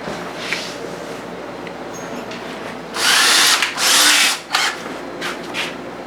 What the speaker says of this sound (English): then I'll drill another hole